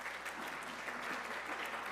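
An audience at a university graduate talks panel applauds the speakers, a dense, even wash of clapping hands that fills the room continuously at moderate distance.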